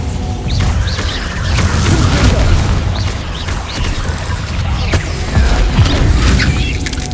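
Blasting spell explosions in the Hogwarts Legacy game, a dense run of loud booming impacts with clattering mechanical debris, rolling on continuously and close with no pauses.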